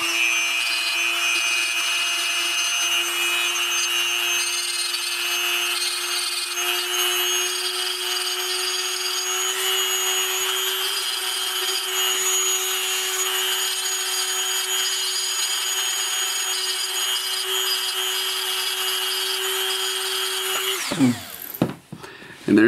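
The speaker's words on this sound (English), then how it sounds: "Sand it down perfectly with the Dremel." A Dremel rotary tool sands an action figure's hand joint, giving a steady high-pitched whine with a constant motor tone that runs close and loud for about twenty seconds before winding down abruptly at the end.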